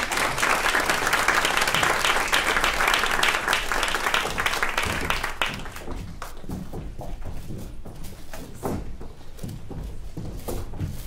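Audience applause at a panel event on stopping food waste, loud sustained clapping from a crowd that thins into scattered claps and footsteps as speakers come to the stage.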